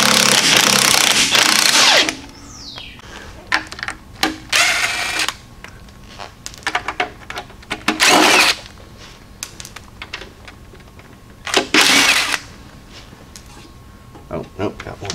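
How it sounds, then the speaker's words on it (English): Hand wrench working loose engine bolts during a teardown of a junkyard 408 stroker engine, heard as clicking ratchet bursts and metallic clatter in separate spurts close by, with brief talk between them. "Come on, wrench."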